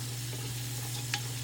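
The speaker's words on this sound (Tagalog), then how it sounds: "Siyempre haluin na naman at igisa." Sliced carrot, chayote, green beans and celery sautéed in a wok for pancit with turmeric, a steady close sizzle with a low hum underneath and one brief utensil clink.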